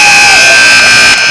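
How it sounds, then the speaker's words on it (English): The final buzzer at a girls' basketball game between Woodland and Holy Cross blares as a loud, sustained electronic tone over crowd noise, filling the gym before cutting off near the end. "So that is the final buzzer, Jimmy."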